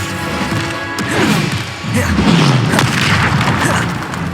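Bombarda spell blasts from Hogwarts Legacy going off in quick succession, heavy booming explosions with crashing debris layered over dense in-game combat noise and music, loud and close.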